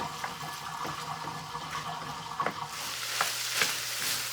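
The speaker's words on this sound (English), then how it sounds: "Oh, we're sizzling now." Frying sizzle crackles steadily as butter and corn cook in a pan, with scattered pops and stirring clatter over a constant hiss.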